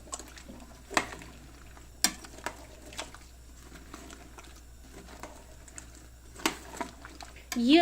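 A spoon stirs a chopped zucchini and bell pepper salad in a pot, giving sparse, soft scrapes and knocks at irregular intervals in a quiet kitchen.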